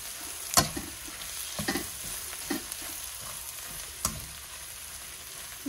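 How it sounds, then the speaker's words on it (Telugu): A paste of garlic, chili, salt, coriander and cumin fries in a pan with a soft continuous sizzle, punctuated by several sharp spoon knocks and scrapes as it is stirred. "ఈ ఎల్లిపాయ, కారం, ఉప్పు, ధనియాలు, జీలకర్ర వేసిన ముద్ద కదా, ఇలా బాగా వేయించుకుందామండి"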